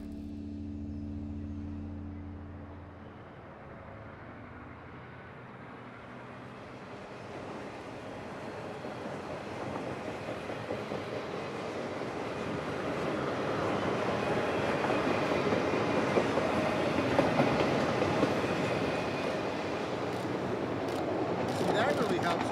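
Freight train rolling along rails, a low engine drone giving way to a building, continuous rumble and clatter of wagons that grows louder and nearer over about twenty seconds, with no talking.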